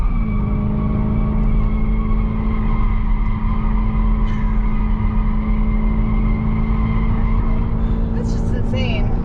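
A 2021 Dodge Durango SRT Hellcat SUV on all-season tires sets up a sustained, loud tire squeal over a steady engine drone while accelerating onto an on-ramp, with a brief higher screech near the end.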